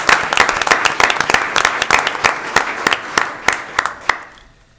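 A small group at a board of trustees meeting gives a short round of applause, sparse and distinct hand claps in an uneven rhythm that thin out and stop within a few seconds.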